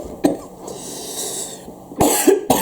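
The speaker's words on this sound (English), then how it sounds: "I'm coming up with a cough" A man coughs: a short single cough near the start, then after a quiet pause two louder, harsher coughs in quick succession close to the microphone.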